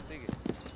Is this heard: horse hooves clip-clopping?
yes